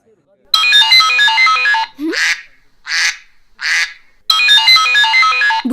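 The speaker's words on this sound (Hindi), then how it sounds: "बुज्जी का फोन।" An incoming call sets off a mobile phone ringtone, a bright electronic melody that plays loudly, pauses while voices speak in short bursts, then starts again.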